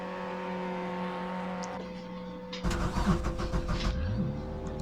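A Mazda MX-5 engine idles steadily in the iRacing sim game, then the note jumps as it revs and climbs through rising pitch sweeps, moderately loud with no talk.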